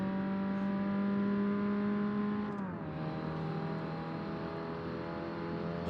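Race car engine in Forza Motorsport, a D-class car on stock tyres held below 6,500 RPM to avoid engine damage, droning steadily then dropping pitch as revs ease, loud and continuous.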